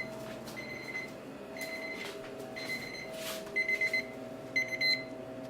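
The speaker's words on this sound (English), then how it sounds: "Oh, my timer." Kitchen timer alarm ringing in a home kitchen pantry, repeated short electronic beep bursts over a steady low mechanical hum, moderately loud and near, with no speech.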